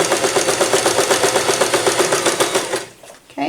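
A sewing machine runs in a fast steady stitching rhythm, sewing a small reusable face wipe, then stops near the end, with a voice talking over it.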